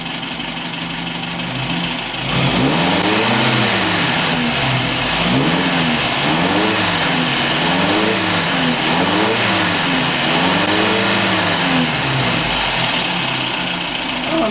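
An MG TF engine goes from idle to around 3,000 rpm and holds there, a loud close-up drone with a steady rhythmic wavering pulse throughout.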